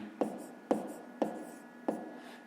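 Pen strokes on paper while solving a fifth-grade fraction exercise, four short scratchy marks spaced about half a second apart, close and fairly quiet with no talk.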